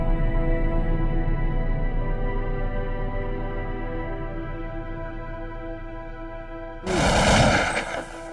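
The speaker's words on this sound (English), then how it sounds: "Gunfire." A short, loud burst of gunfire in the video game Counter-Strike 1.6 on the Militia map cuts in abruptly near the end after a long stretch of steady tonal background sound.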